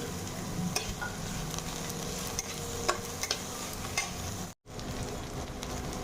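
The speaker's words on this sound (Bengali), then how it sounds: "বারবার পেঁয়াজকে ভেজে নেব।" Chopped onions with green chilli and ginger-garlic paste fry in a pan with a continuous hissing sizzle, broken by light stirring scrapes and a brief cut to silence near the end.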